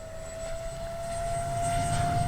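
A Freewing 70mm F9F-5 Panther RC jet flies past at full speed, its ducted-fan engine giving a steady loud whine and roar that swells as it nears.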